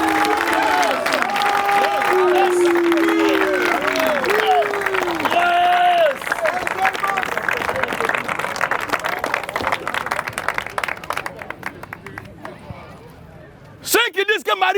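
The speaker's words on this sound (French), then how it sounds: "On acclame le Seigneur Jésus-Christ." A worship crowd applauds and cheers in acclaim of Jesus Christ, loud dense clapping and shouting with a voice over it, fading into scattered claps and voices, then a brief burst of noise near the end.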